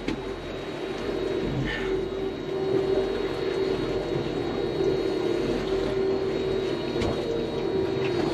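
A boat's trolling motor hums steadily with a thin electric whine, fairly quiet and unbroken, with faint wind and water noise around it and no talking.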